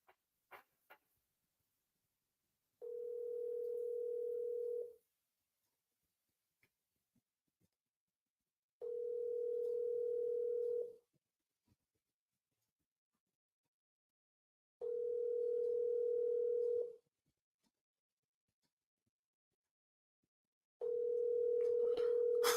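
A telephone ringing tone heard through the line: a steady buzzing tone repeating about every six seconds, with silence between rings.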